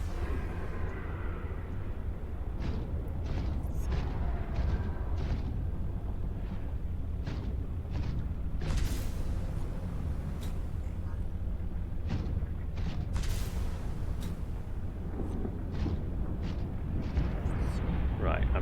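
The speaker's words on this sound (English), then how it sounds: "underwater explosions" Muffled underwater explosions in Subnautica Below Zero, a steady heavy rumble with recurring deep booms and bright bursts spread across the stretch, a voice speaking faintly among them.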